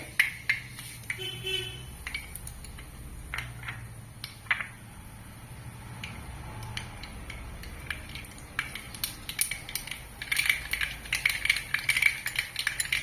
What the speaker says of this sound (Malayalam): കടുക് നന്നായിട്ട് പൊട്ടിയിട്ടുണ്ട്